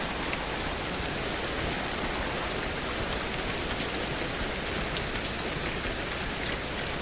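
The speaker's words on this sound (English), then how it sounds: "But I do like that it's raining, that's nice." Steady rain falls on a wintertime evening in Florida, an even, dense wash of patter and drops that holds constant throughout with no voices.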